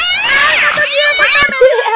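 A cat meows in a series of drawn-out, wavering, whining cries, loud and close, with a voice mixed in alongside.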